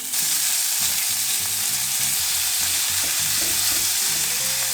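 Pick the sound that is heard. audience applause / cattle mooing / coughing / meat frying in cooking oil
meat frying in cooking oil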